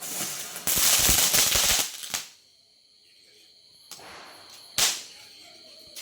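Firecrackers bursting outdoors during a family celebration: a dense rapid crackling barrage for about two seconds, then quiet broken by a few scattered sharp single bangs.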